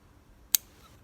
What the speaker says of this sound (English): using fine point scissors. You want to cut reasonably close